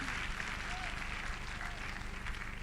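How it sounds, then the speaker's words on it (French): Applause from a church congregation praising the Lord, a steady dense wash of clapping hands filling the room, with a few voices mixed in beneath it. "Donc acclamez le Seigneur."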